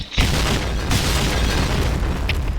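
A grenade bursts in the shooter game Point Blank with a sudden loud boom, followed by a dense rumbling roar that fades slowly.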